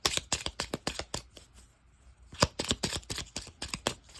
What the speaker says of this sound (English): We're going to shuffle that real quick and then see what message we get from that.